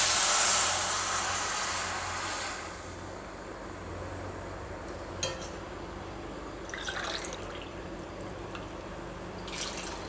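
About two and a half cups of water poured into a pot of vegetables for vermicelli pulao: a loud, steady splashing rush for the first couple of seconds, then a quiet simmering hiss with a few faint clinks and drips.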